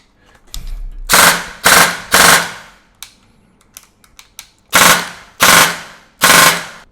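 LKCJ gel blaster toy gun fired in semi-auto mode, six loud, sharp, close shots in two groups of three, with faint mechanical clicks in the pauses between them.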